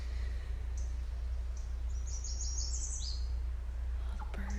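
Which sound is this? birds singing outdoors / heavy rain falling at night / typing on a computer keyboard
birds singing outdoors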